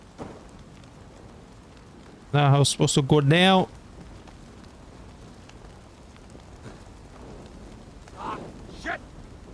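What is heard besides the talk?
rain in the video game Assassin's Creed Valhalla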